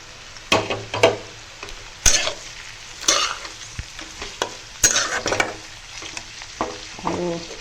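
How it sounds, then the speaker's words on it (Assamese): Dried red chilies stirred and frying in a pan while making carrot pickle, with a steady sizzle under repeated scraping strokes of a spoon against the pan, close and fairly loud, no voices. "এতিয়া মই ইয়াতে দিম কেঁচা জলকীয়া শুকাই থোৱা"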